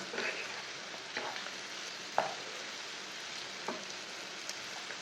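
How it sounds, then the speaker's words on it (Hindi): Spices frying in oil in a pan for bhindi give a continuous close crackling sizzle with a few sharper pops and clicks spread through, alone without talk. "दो मिनट तक मैंने मसालों को भून लिया है।"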